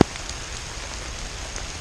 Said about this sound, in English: So bear with us while we enjoy the rain.